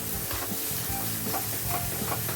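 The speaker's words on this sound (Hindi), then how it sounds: "मटर को हम मसाला के साथ में थोड़ा भून लेते हैं" Green peas are stirred and fried with masala in a hot pan, giving a steady, close sizzle and hiss with scraping stir sounds throughout and no talk.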